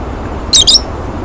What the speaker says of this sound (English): Kind of doesn't like sitting in her cage by herself. Always chirps.